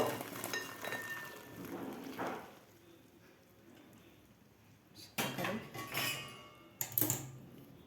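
Peas and cauliflower tipped into a colander, with clattering knocks of metal cookware and the spatter of falling pieces, loudest in two bursts near the end; a voice talks during quieter stretches.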